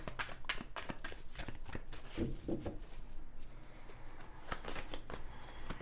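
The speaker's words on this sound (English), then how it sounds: "shuffling for Aries, please." Tarot cards shuffled by hand during a reading, giving a steady run of soft riffling and slapping bursts close up, with no talking over it.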